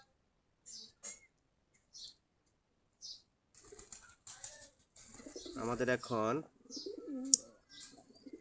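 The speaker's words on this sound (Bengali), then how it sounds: "দেশি গিরিবাজ কবুতর।" Deshi Giribaz pigeons in a loft: scattered soft coos and short bursts of wing flapping, with someone talking over them in the middle and a sharp tick near the end.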